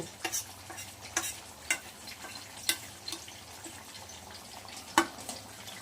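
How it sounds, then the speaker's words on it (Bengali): Spoon stirring a pot of country chicken and potato curry with red gravy, cumin and chili powder added, giving soft scraping strokes over a faint steady sizzle, with a few sharper clinks at irregular intervals. "আমি জিরে মরিচের গুঁড়ো দিয়ে আবার একটু আলতো করে নেড়ে নেব"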